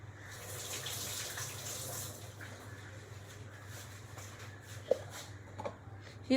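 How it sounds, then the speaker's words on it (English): A kitchen tap runs steadily while hands are washed under it, a soft continuous stream with a few faint clinks and splashes near the end and no voices. "I'm just gonna wash my hand before we wrap this."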